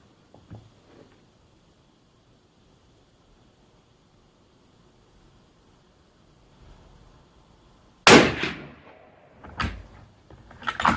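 A .300 Win Mag rifle fired over a chronograph: after a long near-silent stretch, three loud, sharp shots ring out a second or so apart, each with a short decaying tail.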